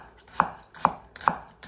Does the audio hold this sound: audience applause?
no